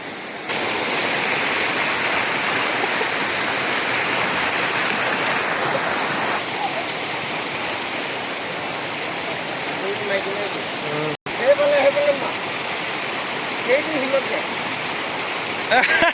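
A river stream in Arunachal flows in a constant rushing wash of water, close and steady, with faint voices briefly audible near the end.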